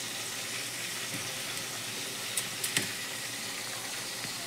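Fish pieces frying in a pan, a continuous close sizzle with a few sharper crackles and spatters near the middle, alone without talk.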